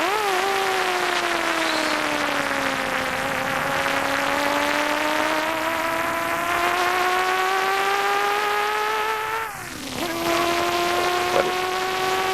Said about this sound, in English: The car we just saw him pass was in fact the Warren Cullen entry with Gary Cook now at the wheel.